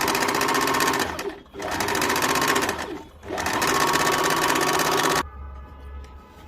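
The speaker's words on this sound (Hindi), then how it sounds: "अब मैं पट्टी को सीधे की तरफ रख के हाफ इंच पे सिल लूंगी।" Sewing machine running in steady bursts as it stitches a blouse strip half an inch from the edge, close and loud, with two brief pauses before the motor stops.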